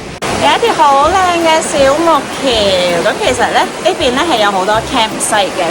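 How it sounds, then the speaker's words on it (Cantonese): A loud river rushes past a campsite near Lauterbrunnen, Switzerland, a constant, close, roaring wash of water that sits under a person talking throughout. "佢條河咁大聲咧，唔知大家聽唔聽到我講嘢？"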